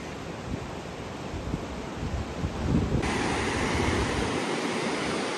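A Sierra Nevada river running high with snowmelt and extra water released from Lake Isabella, heard near a bridge as a loud, steady, close rushing roar with no voices.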